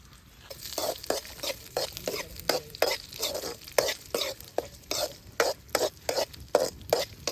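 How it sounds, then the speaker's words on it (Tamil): Cumin seeds stirred with a ladle in hot oil at the start of a mutton gravy, a steady run of scraping, rustling strokes at a quick even rhythm, close and fairly loud, with a soft sizzle beneath and no talking. "இப்போ கரண்டி வச்சு லைட்டாக கிண்டிக்கலாம்."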